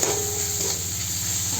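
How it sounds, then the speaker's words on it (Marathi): Finely chopped medium tomato goes into a hot frying pan for a spicy dried-fish and potato dish, giving a steady, close sizzle with soft stirring scrapes and no voices. "आणि यात घालूया टोमॅटो 1 मध्यम आकाराचा बारीक चिरलेला"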